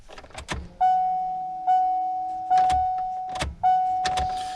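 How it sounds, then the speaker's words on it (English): A steady electric whine from a Ford F350 fuel pump priming after 15 years of sitting starts and stops four times in short bursts, each about a second, with mechanical clicks between them. "And we hear a fuel pump."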